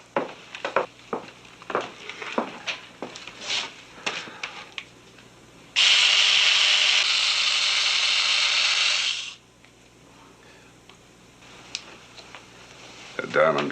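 A diamond drill cuts into a cylinder in a laboratory, giving a loud, steady, harsh grinding whine that starts abruptly, holds for about three and a half seconds, then stops, with talk before and after.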